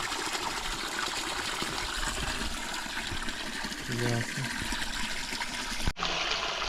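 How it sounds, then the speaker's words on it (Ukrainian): Water rushes steadily in a continuous gushing flow from a newly drilled borehole for drip irrigation, with a brief spoken word near the end. "То вже наша вода тече, так?"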